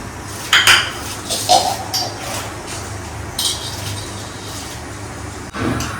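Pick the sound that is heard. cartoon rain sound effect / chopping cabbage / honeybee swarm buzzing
chopping cabbage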